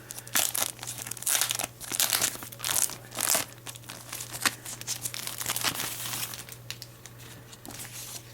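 Paper manual and packaging from a Dyson AM09 hot/cold fan being handled: steady close crinkling and rustling of paper over several seconds, above a constant low electrical hum.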